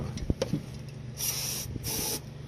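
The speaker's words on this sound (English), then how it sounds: "just simply use some brake parts cleaner" Two short hissing bursts of brake parts cleaner aerosol sprayed onto oily car engine parts, each about half a second, after a few faint clicks and taps nearby.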